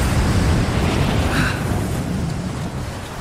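Strong mountain wind roars steadily in Rise of the Tomb Raider, a loud, dense broadband rush with low rumbling gusts that stays constant throughout, with no talk over it.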